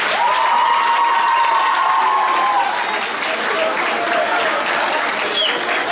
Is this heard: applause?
yes